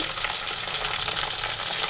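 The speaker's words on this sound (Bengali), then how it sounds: "এই যে ওনার জন্য আবার সিম ভাজা বসিয়ে দিয়েছি" Close, steady sizzling of flat beans frying in hot oil, a continuous crackling hiss with no voices.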